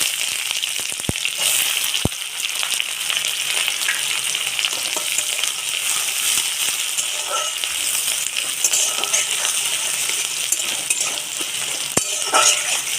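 Chopped onion and whole cumin seeds fry in oil with a loud, continuous sizzle, punctuated by occasional metallic clinks and scrapes of a utensil stirring the pan.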